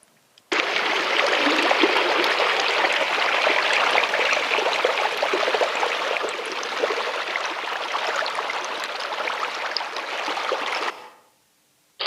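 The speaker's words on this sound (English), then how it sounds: "these sluice canals are freighting all that melting mud and slush down to the river" Meltwater from thawing permafrost in a thermal karst pours down sluice channels, carrying mud and slush toward a river in the Arctic north; a steady, loud, close rushing and trickling of water runs without pause for about ten seconds, then stops.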